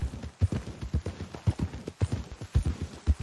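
Horse hooves clip-clopping on the ground in the open-world western game Red Dead Redemption II. Soft, irregular hoof thuds come in a steady walking rhythm, close and moderately loud, with no talk over them.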